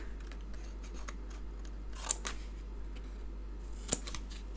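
Scissors cut paper scraps for a quilt-style card with two quick, crisp snips a couple of seconds apart, close but quiet against a faint background hum.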